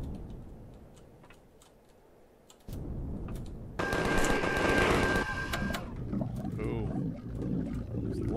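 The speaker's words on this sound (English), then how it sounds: "Go in, mini guns ablazing." Miniguns fire in the space game Empyrion, a loud sustained roaring burst that starts abruptly and runs for a couple of seconds, then gives way to rumbling engine noise and lower clatter.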